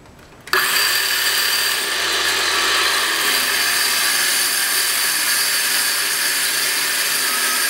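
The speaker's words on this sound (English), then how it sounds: "I'm using a circular saw to drill the holes for the plumbing." A power saw spins up abruptly and then holds a loud, steady, high whine as it cuts plumbing holes in wood for an in-wall aquarium, close by with no talking.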